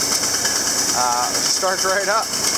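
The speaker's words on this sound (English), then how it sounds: "Tractor starts right up." A tractor engine that starts readily runs steadily, filling the clip with a loud continuous drone, while a voice talks briefly over it.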